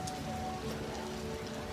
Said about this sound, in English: The rain seems to be subsiding.